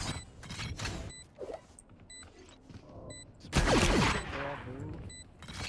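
Rapid bursts of Valorant gunfire snap out in quick clusters, with a louder, sustained volley and ringing ability effects in the second half, all loud and close over game ambience.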